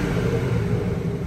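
Low, steady rumble of a warmed-up BMW 440i M Sport Gran Coupe engine idling nearby, even and unbroken.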